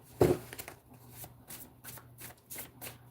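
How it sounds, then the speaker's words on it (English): A deck of cards is shuffled close up during a tarot-style reading, a quick riffle burst followed by several softer flicks and slides of card against card, with faint voice in the background. "Shuffling for Libra."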